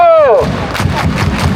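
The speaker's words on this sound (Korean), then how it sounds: "박수!" A football stadium crowd at a K League match between Suwon FC and Daegu FC claps in loud, rhythmic bursts, following a brief descending whistle-like tone at the start.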